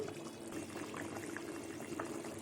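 Potato curry with lentil fritters simmers in a pot, giving a faint, steady bubbling with small liquid pops throughout.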